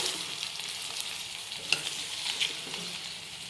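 Chopped vegetables sizzle in a pan over softened onions for a mixed vegetable curry, a soft steady frying hiss with a few small stirring clicks, close and fairly quiet.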